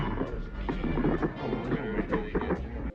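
An Ithorian alien from Star Wars: The Bad Batch speaks in a low, warbling, layered voice with choppy, rhythmic syllables, steady and moderately quiet for about three seconds.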